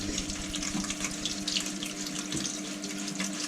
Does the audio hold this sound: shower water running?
yes